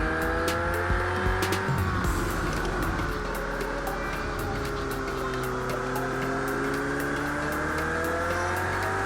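A race car's engine note drops through downshifts as it brakes into a corner at Brands Hatch in the Project Cars 2 racing game, with continuous engine drone, rising and falling tones and brief tire noise, loud and steady.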